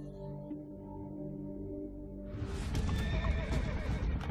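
Horses in a samurai-era battle setting: a drawn-out whinny rings out first, then a dense, loud clatter of galloping hooves with more neighing mixed in.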